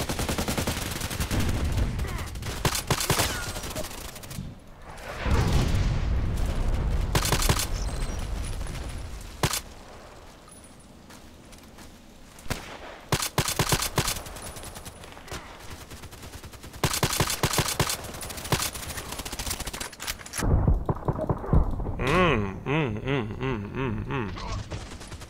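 Rifle gunfire in a video game comparing the M40A6 and EBR, with repeated sharp shots in quick clusters, loud and near, separated by quieter stretches and short bursts of rapid fire.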